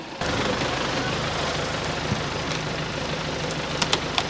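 An MTZ 89.2 tractor engine idles steadily to power a hydraulic log splitter, a continuous mid-low diesel drone with a slight knocking texture and a few sharp clicks near the end, heard at moderate distance.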